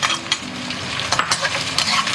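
Pork shreds stir-fried in a wok over rendered pork-belly fat, a close sizzle broken by rhythmic scraping and clinking strokes of the spatula.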